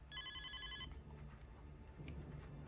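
A telephone rings once with a short electronic trill, faint and distant in a quiet room, followed by low background noise and a second brief ring near the end.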